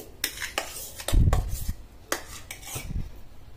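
Ground urad dal batter scraped from a mixer jar into a bowl, with several sharp metallic clinks and scrapes of a spoon against steel and a duller thud, close and clear without talk.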